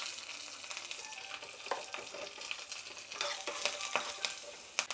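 Mustard seeds, cumin, dried red chilli and curry leaves sizzle and crackle loudly in hot oil, a dense continuous frying hiss with sharp popping spits and some stirring, no voices.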